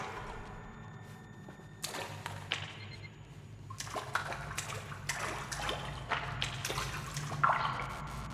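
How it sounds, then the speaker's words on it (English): Water ambience in the dark exploration game Scanner Sombre, with soft dripping and splashing textures plus occasional thuds over a low rumbling cave drone, faint and continuous throughout. "I can hear the water, but I can't see it."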